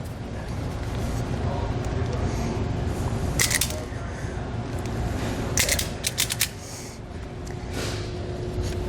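Wire strippers bite and pull insulation off the end of a red wire while installing an Air Lift Load Controller II compressor for air helper springs, giving brief scraping snips over a steady hum.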